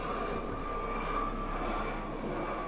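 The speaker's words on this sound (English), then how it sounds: "Got a helicopter flying overhead." Helicopter passing overhead in London, a steady loud droning rumble with a sustained engine whine, continuous and unchanging throughout.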